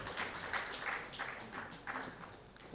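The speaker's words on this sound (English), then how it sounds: "Another round of applause for the panelists" Soft applause for a panel at a health ministry event, a few seconds of light, scattered clapping heard from a distance at low volume.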